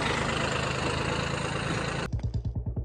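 A tractor engine idles with a loud, steady rumble for about two seconds, then shifts into a slower, pulsing low chug that sounds nearer and more uneven.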